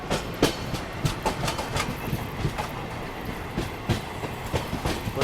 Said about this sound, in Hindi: कोई तो पैसेंजर ट्रेन निकली यहाँ पे।